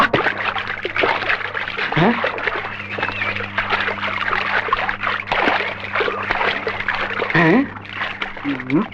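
Water splashing and sloshing in a farm water tank as people jump in, with repeated splashes over a steady hum of background music, and people talking around it.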